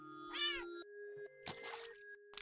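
Cat sounds in an indie horror video game: a drawn-out, wavering meow, then after a pause a rougher, noisier yowl, both fairly close and standing out over a steady low electronic drone.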